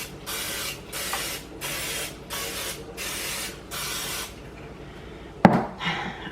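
Six steady bursts of aerosol cooking spray hiss onto a muffin tin in a regular rhythm, each about half a second, followed by a clatter and a faint rustle.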